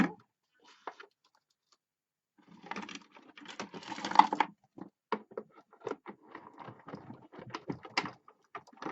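A craft die-cutting machine feeds paper with a butterfly die through its rollers, a quiet run of close, rapid ticking and clicking that rises to a dense rattle for a couple of seconds and then breaks into scattered taps.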